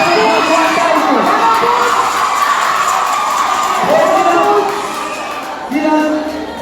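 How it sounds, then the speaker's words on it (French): An audience at a school quiz final bursts into loud cheering, shouting and children's whoops, a sustained crowd roar that swells and dips before fading slightly toward the end. "Sous vos applaudissements, nous appelons François Tyson."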